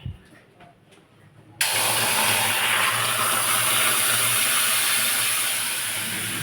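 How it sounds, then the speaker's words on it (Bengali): Sugar syrup and oil pour into a hot wok while raw green mango pickle is being made. After a quiet moment, a loud broadband hiss bursts in and holds steady, easing slightly toward the end. "তেল শুদ্ধ আমি কড়ায় আস্তে আস্তে ঢেলে দেবো"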